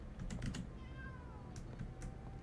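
A cat in the video game Travellers Rest meows once, a short rising-and-falling call in the middle, amid quiet clicking keyboard taps and a low background hum.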